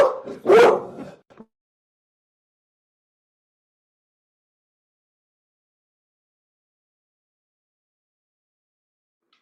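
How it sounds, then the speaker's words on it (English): A black Labrador dog gives one short bark burst, close and loud, followed by a long stretch of silence. "I just have a black lab that barks for you"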